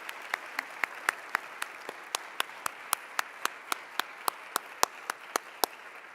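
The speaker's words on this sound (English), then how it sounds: "let's clap for these people." Applause for the Wooster Class of 2021 graduates at a multicultural stoling ceremony, heard as a sparse series of sharp, evenly spaced claps, nearly steady in rhythm, against a quiet background.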